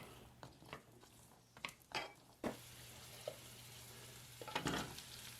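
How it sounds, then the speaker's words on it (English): Carrots sizzle in hot extra virgin olive oil over medium-high heat, with a steady frying hiss broken by clattering scrapes and knocks of a utensil stirring the pan. "we're going to add our carrots and saute them, stirring frequently for 5 minutes"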